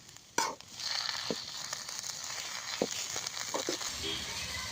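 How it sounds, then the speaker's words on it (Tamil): Thuthuvalai greens sautéing in a hot pan, a sharp entry burst settling into a continuous close sizzle with a few scraping stirs and light crackles. "கீரையை போட்டாச்சு இப்போ நல்லா வதக்கிக்கலாம்"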